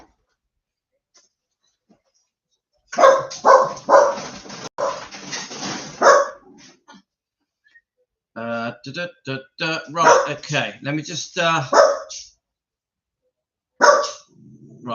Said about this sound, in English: so the dog, of course, does he just want to go out?